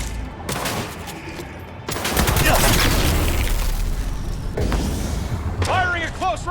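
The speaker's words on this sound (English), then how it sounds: "Firing at close range!" Close-range gunfire in Cyberpunk 2077, dense rapid bursts filling most of the stretch, loud and continuous against a busy game backdrop with a voice talking over it.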